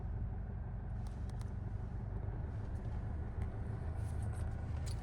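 A car slowly reverses while a beginner is learning to drive, its engine giving a steady low rumble heard from inside the cabin, with faint clicks and a little road noise, and no talk.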